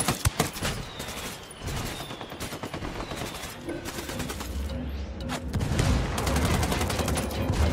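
Gunfire from rebel indirect fire in the Spec Ops video game, a series of sharp cracks and thumps at the start followed by sustained rumbling bursts and scattered distant shots, loud and continuous throughout.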